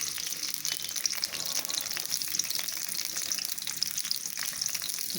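Two medium-chopped onions fry in oil for a khaskhas masala curry, giving a continuous close, bright sizzle with fine crackles and a few louder spits.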